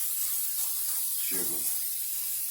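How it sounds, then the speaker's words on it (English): Pan release sprayed onto a sheet pan for cinnamon rolls: one short, close hissing burst of about a quarter second, standing alone over a quiet background. "so we're gonna spray it quite a bit"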